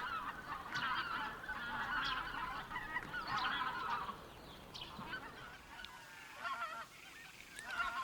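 A flock of greater white-fronted geese honking repeatedly, overlapping calls in bursts, fairly close and steady throughout, with a brief lull before the calls resume.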